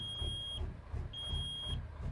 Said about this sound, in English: as the air pressure beeps away.